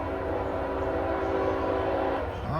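A long freight train of over 600 axles approaches on the railway, a steady loud rumble with a sustained horn-like tone building over the track noise.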